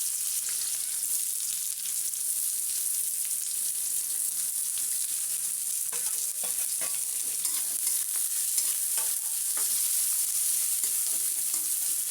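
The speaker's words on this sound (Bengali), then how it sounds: "তেলে দেবো পেঁয়াজ আর কাঁচা লঙ্কাটা দিয়ে দেবো।" Onion and green chilli fry in oil in a wok for homemade chow mein, making a bright, even sizzle that runs continuously up close, with light stirring scrapes and crackles in the middle stretch.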